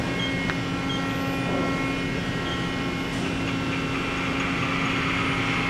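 A Mori Seiki NL3000Y CNC turning center with Y-axis milling runs its turret-mounted live tools at about 1,100 to 2,700 RPM, giving a steady, loud mechanical hum and whine with faint higher tones throughout.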